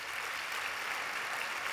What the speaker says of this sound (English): y'all clap too much